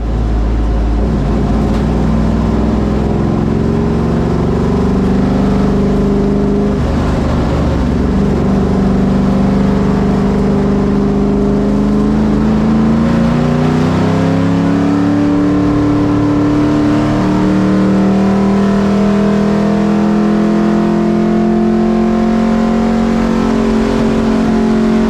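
Stock cars roll around Darlington Raceway behind the pace car, a loud, continuous engine drone from inside one car with pitch rising and falling as it accelerates and shifts, with no talk over it.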